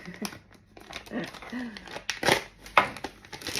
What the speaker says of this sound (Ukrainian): Оцей пакетик ось так відкриваєте.